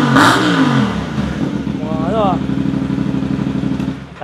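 A motorcycle fitted with an SF Spitfire exhaust with a carbon tip and its silencer installed revs up and holds a steady, throaty idle pulse, close by, with people talking over the start.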